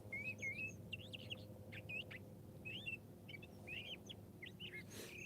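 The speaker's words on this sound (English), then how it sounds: "Yeah, the birds. A lot of birds." Several birds chirp and whistle outdoors on a quiet morning, bright repeated calls in short phrases at moderate distance over a low steady background hum, with no talk.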